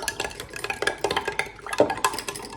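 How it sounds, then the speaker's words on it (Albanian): A spoon stirs a yeast and sugar mixture for focaccia dough in a bowl. Quick, rhythmic clinks and scrapes come close and fairly soft, with no talking. "Trazojmë."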